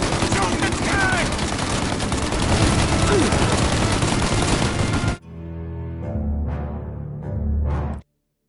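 A Mafia video game shootout: dense, continuous rapid gunfire for about five seconds, then it cuts off abruptly, leaving quieter thuds and voices behind.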